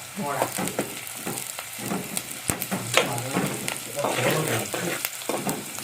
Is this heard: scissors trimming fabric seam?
no